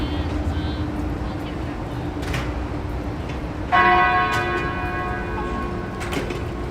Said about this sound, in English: Okay, I can hear the bell.